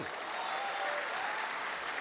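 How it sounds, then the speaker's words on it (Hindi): Audience at a Republic Day kavi sammelan and mushaira in Dubai applauding a couplet, a short, faint, even patter of clapping. "अच्छा शेर लगे तो दोस्तों एक बार तालियों से नवाज दें"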